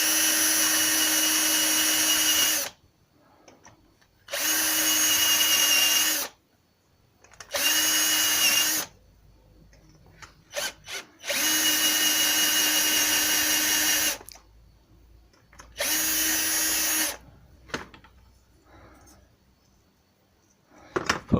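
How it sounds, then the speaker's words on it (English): A power drill bores into a door part in five loud bursts of whining motor, each a second or two long, separated by silent pauses. "Put a bigger drill through that."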